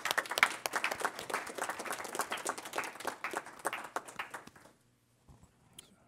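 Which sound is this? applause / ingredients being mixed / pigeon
applause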